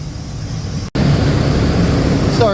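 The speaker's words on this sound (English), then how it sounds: "Just got the heaters on." Spray paint booth heaters run with a loud, steady roaring whoosh, broken by a brief dropout, then resuming at full strength.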